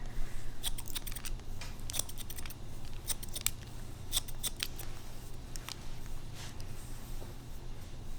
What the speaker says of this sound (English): just do a couple snips with the thinning shears